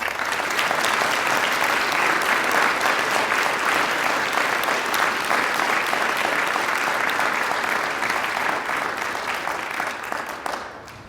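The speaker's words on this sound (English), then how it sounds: "Let's give them a round of applause." Sustained, loud applause from a large audience at a university convocation ceremony fills the space evenly, then tapers off at the very end.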